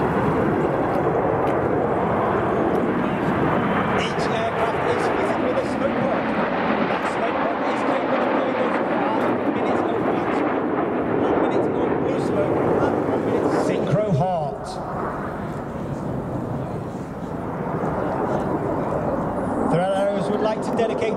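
Red Arrows jets fly a display at RIAT 2022, their engines a broad, continuous distant roar swelling and fading across the airshow, under a public-address commentator speaking.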